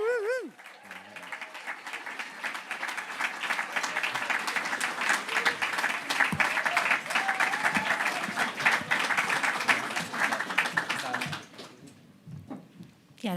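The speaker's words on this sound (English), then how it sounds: "so you've got to keep that clapping going" A crowd at a SpitNights poetry show claps steadily and sustains the applause for several seconds, with scattered whoops, then it fades as a voice speaks at the end.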